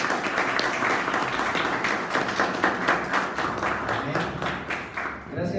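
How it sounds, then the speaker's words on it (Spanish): A church congregation at a Sunday service gives the young decorators a brief round of applause, dense steady clapping filling the room for several seconds with voices mixed in. "le diéramos un pequeño aplauso, un breve aplauso a los jóvenes"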